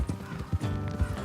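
Horse hooves clip-clop in Red Dead Redemption 2 as the riders head off the road, a few uneven near hoof thuds with the low rumble of movement, no talk over them.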